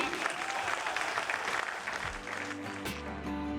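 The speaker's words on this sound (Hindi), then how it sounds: "हरिओम पवार जी ने अपनी कविताओं से सभी श्रोताओं को तालियां बजाने पर मजबूर कर दिया" An audience claps enthusiastically after a Hindi poetry recital at a Shaheedi Diwas kavi sammelan, dense sustained applause that fades toward the end as a low tone and a voice begin to come through.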